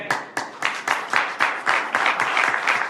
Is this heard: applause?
yes